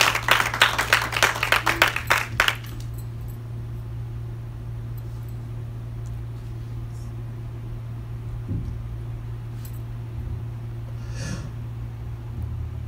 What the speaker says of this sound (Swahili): Hebu pige Mungu makofi hapo.